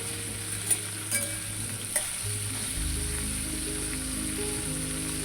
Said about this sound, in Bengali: হালকা হালকা মাংসটা একটু ভাজা ভাজা হবে